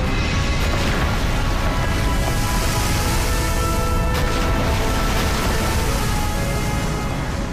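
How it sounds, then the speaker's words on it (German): A massive, continuous roaring rumble fills the clip, a dense wall of deep explosive noise without pause, as the Krakatoa volcano blows apart its island. "Monate später zerreißt der Vulkan Krakatau die ganze Insel."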